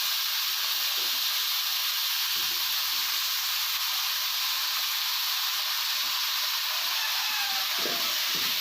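Snake gourd and tomatoes sautéing in a pan give a steady, even hiss of frying that runs unbroken throughout, with faint scrapes and stirring knocks underneath.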